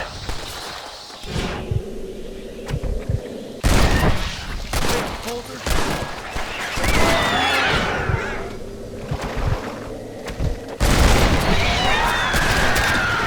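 In the zombie western game Red Dead Redemption: Undead Nightmare, repeated volleys of gunfire ring out loud and close with booming shots and whooshes, mixed with shouting voices.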